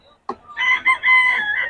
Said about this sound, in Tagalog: marami naman manok yata